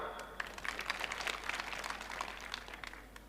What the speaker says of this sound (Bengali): আমরা একটু হাত তালির মাধ্যমে অভিনন্দন জানাই